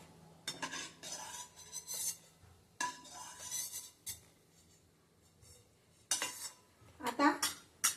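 Freshly fried coconut being scraped out of the pan onto a plate, with several bursts of metal spoon scraping and clinking against cookware separated by short quiet gaps, close and fairly loud.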